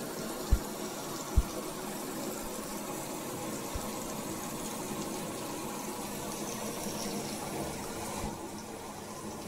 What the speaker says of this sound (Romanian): Acum așteptăm să se umple cu apă.